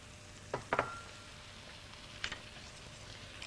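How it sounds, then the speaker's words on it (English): Almonds dry-fry in a frying pan with no oil, giving a faint, quiet sizzle broken by a few sharp clinks and scrapes from stirring. "So we're dry frying the almonds."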